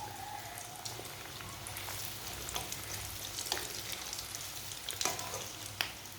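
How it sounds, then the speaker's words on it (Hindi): Potato and chili pakoras fry in very hot oil with a dense, steady sizzle and crackle, close up, broken by occasional louder pops and spatters. "इसे मैंने आधा मिनट ही फ्राई किया है, ऑयल ज़्यादा गर्म था इसलिए।"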